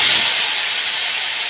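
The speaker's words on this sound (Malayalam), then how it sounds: "നമ്മൾ മുളകൊക്കെ ഒന്ന് വഴറ്റാൻ പോകണം." Chillies sauté in a hot pan for Kerala puli inji, giving a short, loud, close hiss of sizzling oil with no voices.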